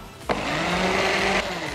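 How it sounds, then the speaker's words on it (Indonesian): Kitchen blender whirring through a vegan egg yolk mixture, starting with a sharp click and then running at a steady, close, even motor whine for about a second before stopping, with no talking over it. "Terus di blender lagi. Supaya dia rata."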